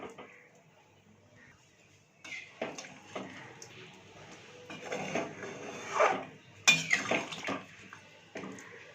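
Water splashes and pours into a pot of Bengali-style chicken curry with potatoes, starting quietly and then rising into bursts of gushing and sloshing, with a few clanks from the pot.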